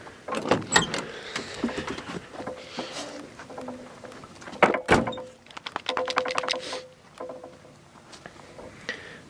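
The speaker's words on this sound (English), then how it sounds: "Let me open the door." A door being opened outdoors beside a small wood-burning camping stove, a few close clicks, rattles and scraping knocks in irregular bursts, with a louder thump near the middle, fairly quiet overall.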